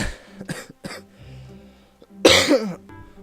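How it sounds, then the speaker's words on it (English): A burst of harsh coughing near the mic, a few short coughs followed by a louder, longer hacking fit, with quiet pauses in between. "I had a coughing fit."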